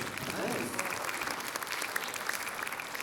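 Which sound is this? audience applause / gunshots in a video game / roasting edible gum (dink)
audience applause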